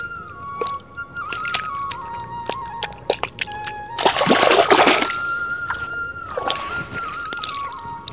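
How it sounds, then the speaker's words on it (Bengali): Water pours from one field into the next through an earthen embankment breached by crabs, a burst of rushing, splashing water in the middle of the clip, with scattered thuds and trickles around it and no voices. "ওপারে জমিন থেকে এপারে জমিনে জলগুলো বেরিয়ে যাচ্ছে"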